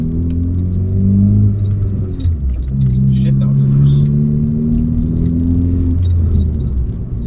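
A Ford Focus ST fitted with a Sidewinder turbo kit accelerates through the gears, its engine droning up in pitch, dipping at a shift, then climbing again, heard from inside the car with someone talking over it.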